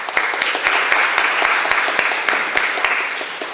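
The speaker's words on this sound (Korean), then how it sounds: "이때 하나님께 영광의 박수 올려드려야 되는데요" A church congregation clapping during a Korean sermon, a loud, close run of rhythmic claps with distinct sharp hits roughly every few tenths of a second over a bed of softer clapping.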